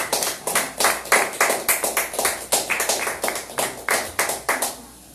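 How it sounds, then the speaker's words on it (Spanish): A church congregation claps together in a steady, rhythmic beat of sharp hand claps, loud and close, continuing for about five seconds with no talking. "Fuerte aplauso al Señor."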